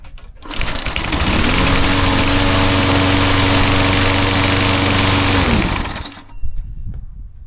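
A repaired lawn mower engine catches after a few primer pumps and runs at a steady, loud, high buzz for about five seconds before cutting off. It is close and heard alone, without talk.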